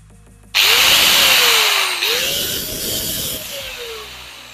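Doliz BA 770-C budget angle grinder switching on, its motor whining up to speed with a loud, steady, slightly wavering drone that carries on without talk.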